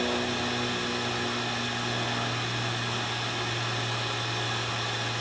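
A pump sucks oil out of a lawnmower, giving a loud, steady mechanical whir and hiss with a constant drone that runs unchanged throughout, no voices present.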